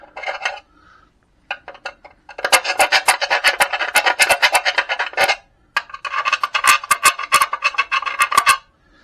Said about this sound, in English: so I'll just do a little bit of filing off the edges